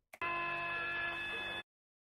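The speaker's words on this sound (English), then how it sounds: "I'm sorry for the fire alarm in the background" A single loud electronic fire alarm buzz holds steady for over a second, harsh and tonal, then cuts off abruptly into silence.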